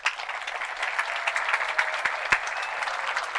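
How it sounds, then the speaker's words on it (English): Applause from seniors and guests at a high school graduation ceremony, a broad wash of clapping with a few sharper claps standing out, steady across the clip. "Seniors and guests, please give your parents and guardians a round of applause."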